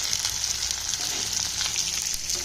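Vegetables for a yam tamarind curry sautéing in a pan, a dense and steady close sizzle with no talk.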